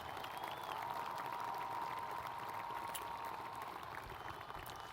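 A large graduation audience applauds the Red Mountain class of 2014 seniors, a distant, continuous hiss of many hands clapping that stays even throughout, with faint crowd murmur beneath.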